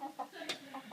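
A chicken clucking indoors in a house, several short soft clucks spread across a second, faint and close, with low room noise.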